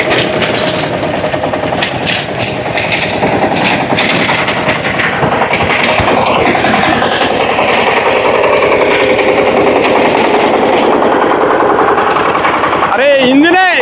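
A hydraulic mini tractor engine labours under load in a dry field, a loud, continuous rattling chug with hard rhythmic knocking that holds steady throughout, ending in a brief higher whine.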